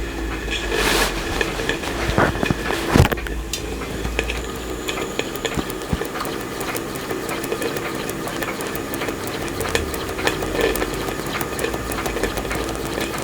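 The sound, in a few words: Stuart Turner 10H model steam engine running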